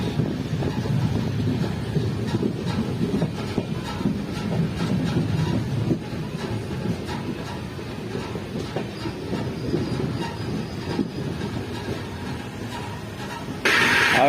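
A passenger train on the Guwahati to Jorhat line rolls slowly, heard from an open carriage doorway. Deep, continuous rumble with rhythmic wheel clatter and wind buffeting runs throughout, close and steady.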